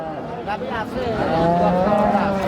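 Dairy cows at a weekly rural cattle market low nearby, with a drawn-out moo rising in pitch and blending with another animal's call against market background noise.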